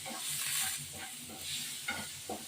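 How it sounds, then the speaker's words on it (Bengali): Fish with salt and turmeric fries in a pan, making a continuous close sizzle broken by a few soft stirring knocks and scrapes. "হলুদ দিয়ে এটাকে সাঁতলাবো"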